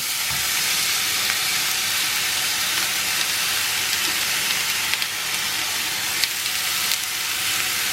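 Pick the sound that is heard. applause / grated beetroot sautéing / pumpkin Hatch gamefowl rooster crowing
grated beetroot sautéing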